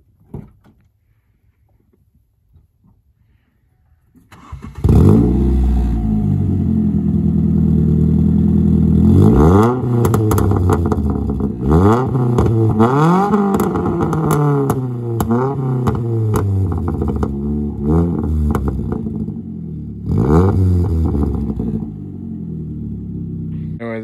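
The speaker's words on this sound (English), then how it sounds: "Actually sounds like a rally car instead of the suppressed, you know, economy car that it was" An economy car with an aftermarket resonator-deleted exhaust, intake and wheel mods starts up and revs repeatedly, rising and falling sweeps over a loud, raspy idle.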